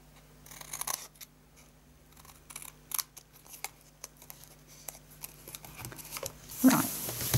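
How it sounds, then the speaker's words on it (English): Glue-covered scissors snip and click repeatedly at close range, with irregular metallic cuts and handling rustles, ending in a louder burst of noise. "I think I need to clean off my scissors"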